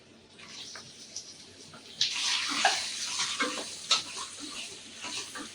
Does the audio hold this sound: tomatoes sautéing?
yes